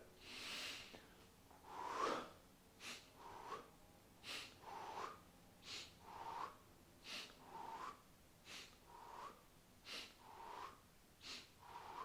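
Rhythmic, repeated breaths during a floor-based strength exercise, each a short airy rush recurring steadily about every second, close and moderately loud with no talking.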